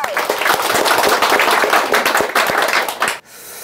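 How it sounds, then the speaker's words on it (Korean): A lecture audience claps together for about three seconds, a loud close patter of many hands that stops abruptly, leaving quiet room tone. "박수 한번 칠까요?"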